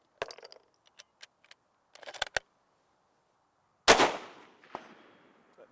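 Gunfire from an Israeli Mauser battle rifle at an outdoor range: a series of sharp, brief cracks, followed by one much louder, nearer report with a decaying tail and a few fainter impacts.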